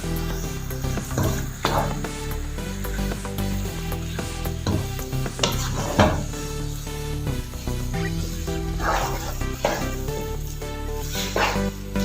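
A bread crumb halwa mixture is stirred and roasted in a pan, with repeated scraping and clinking strokes over a soft sizzle at an uneven rhythm, close by and without speech.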